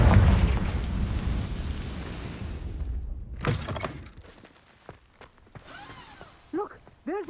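Confringo blasting spell explosion in the video game Hogwarts Legacy: a heavy booming blast that rumbles and slowly fades, then a few quieter pops and clatters and short game sounds near the end.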